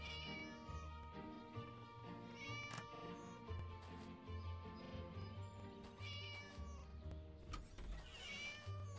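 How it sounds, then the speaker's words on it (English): Cat meows in the Scary Teacher video game, repeated mewing calls standing out over a busy, continuous game music and effects bed, fairly loud throughout. "Naughty cat again."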